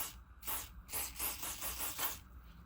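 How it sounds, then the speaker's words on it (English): Two or three short hissing bursts from an aerosol can of silicone grease sprayed onto a mould half, fairly quiet and close, with small rustling between them. "give that half a very light spray of silicone grease"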